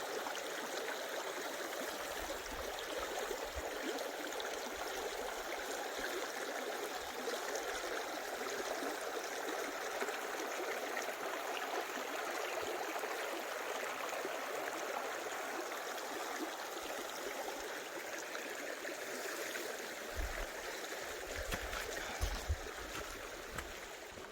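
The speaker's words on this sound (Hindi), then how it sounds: "अब अगर आप देखोगे तो माय गॉड, पानी, ये झरने, ये आवाज़" A mountain stream and waterfalls in Spiti valley rush in a dense, continuous roar that stays steady and loud throughout, with no talking over it.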